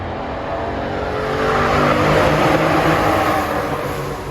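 A 2.5 V6 engine in an Alfa Romeo 156 Sportwagon accelerates steadily, its exhaust note swelling in a smooth, continuous bellow that peaks midway and then eases slightly.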